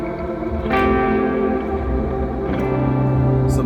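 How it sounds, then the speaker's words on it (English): Ambient electric guitar tone through a Line 6 POD GO multi-effects unit, with sustained chiming notes washed in long reverb and echo, swelling and ringing on without anyone talking. "some atmospheric ambient tones"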